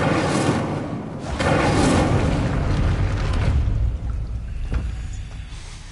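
Incendio fire spell cast in Hogwarts Legacy on PS5: a loud booming whoosh of flame bursts up close, swells for a couple of seconds, then fades into crackling rumble with a few softer thumps.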